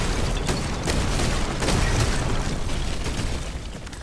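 A destructible wall in a video game bursting apart when shot, a sustained rumbling blast of crumbling debris that stays loud and dense throughout with no voices.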